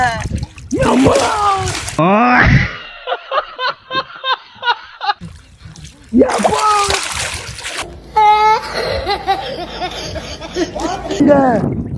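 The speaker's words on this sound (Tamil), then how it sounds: "அப்படியே என்ன தண்ணி ஓட்டன்னு பாக்குங்க" Water splashes in loud bursts, with a rapid run of smaller splashes in between, alongside children's voices and laughter.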